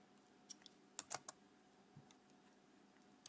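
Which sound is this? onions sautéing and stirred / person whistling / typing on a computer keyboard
typing on a computer keyboard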